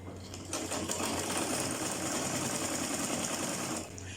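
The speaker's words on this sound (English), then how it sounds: "And sew it straight down." A sewing machine runs in one continuous burst of rapid, even stitching along a turban pleat, starting and stopping cleanly, close and fairly quiet with no talk.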